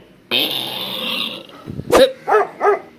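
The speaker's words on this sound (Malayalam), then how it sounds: "ഞാൻ അപ്പോഴേ പറഞ്ഞു സ്റ്റീഫന്റെ വീട്ടിൽ പട്ടി ഉണ്ടെന്ന്." A dog at a house growls briefly, then gives a loud bark followed by two sharper barks close by, with no speech over them.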